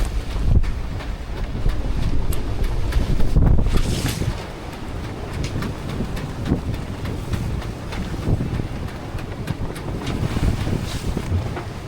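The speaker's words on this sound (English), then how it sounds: "So we're just pounding the waves." A twin-engine boat pounding into rough seas against a 25-knot headwind, heavy thuds of the hull on waves under constant roaring wind buffeting the microphone, loud and close throughout.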